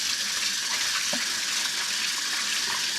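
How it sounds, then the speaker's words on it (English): Cold tap water runs steadily over a fresh onion, a continuous broadband splash and hiss with no talking. "you run some cold water through it."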